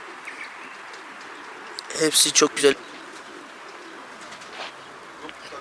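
A short burst of pigeon cooing from a coop, a few throaty pulses close by, amid quiet background chatter and a brief spoken remark.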